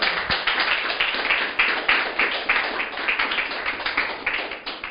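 A church congregation claps during a Spanish-language sermon, rhythmic, fairly even hand claps repeating quickly and steadily, moderately loud with no talk over them.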